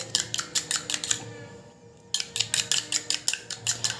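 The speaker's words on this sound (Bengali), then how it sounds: "এই যে অ্যালোভেরা জেলের সাথে ভালো করে ফেটিয়ে মিশিয়ে নিতে হবে" Onion juice is whisked into thick aloe vera gel in a small bowl, a quick regular run of close clicking taps that stops briefly partway through and then resumes at the same brisk pace.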